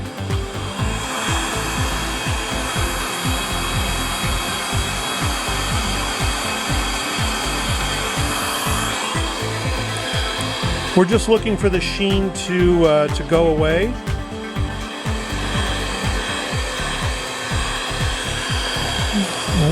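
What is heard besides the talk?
heat gun blowing hot air on muffler epoxy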